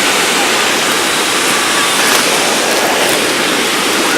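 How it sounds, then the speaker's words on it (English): Niagara Falls roars at the Cave of the Winds, a loud, unbroken wash of crashing water heard up close and filling the whole scene. "the power of those falls, and this is non-stop"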